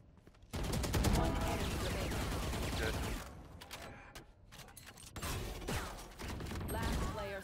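Rapid bursts of Reaver Vandal rifle fire in a Valorant match, loud and close, in long sustained volleys with brief pauses, while players talk over the shooting.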